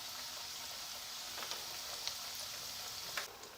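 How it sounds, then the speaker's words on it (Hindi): Noodle potato cutlets frying in hot oil give a steady, close sizzle with a few faint crackles and pops, with no talking. "तो इसी तरह अब हम सारे फ्राई कर लेंगे।"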